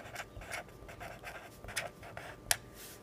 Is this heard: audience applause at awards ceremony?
no